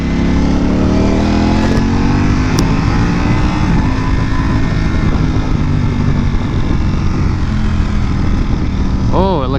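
A Ducati Panigale V4S motorcycle rides and accelerates, its engine note loud and continuous, climbing in pitch through the revs with a brief rising whine near the end, close to the listener.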